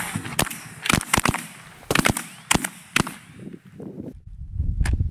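Shotgun blasts during a duck and goose hunt ring out as a rapid series of sharp, loud reports, some in quick pairs and clusters, followed by quieter rustling and a final distant shot.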